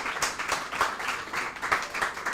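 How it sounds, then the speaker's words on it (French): A school-competition audience gives a brief round of light clapping for a drawing, soft, uneven and scattered rather than full applause. "On voit qu'il est magnifique le dessin, on applaudit quand même."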